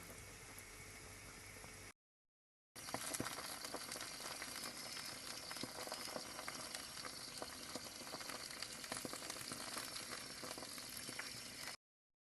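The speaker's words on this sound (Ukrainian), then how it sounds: "Бачите, жирок у баночках ще кипить." Steady bubbling and sizzling of meat stew fat boiling in glass jars in an oven, a dense continuous crackle after a brief pause, close and fairly loud.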